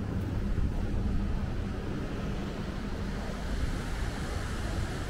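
Strong wind buffets the microphone in a constant low roar by the sea, with surf washing in the background.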